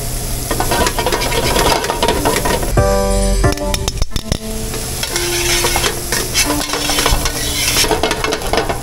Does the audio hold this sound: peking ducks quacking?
no